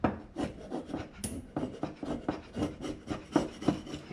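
A razor blade scrapes a gasket off an aluminum air compressor part from a Campbell Hausfeld HL431500, in quick repeated rasping strokes, close and fairly quiet, with a steady back-and-forth rhythm.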